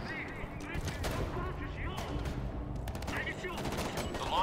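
Gunfire from Homefront: The Revolution, a video game, with steady bursts of automatic shots crackling through a chaotic battle, under a talking voice.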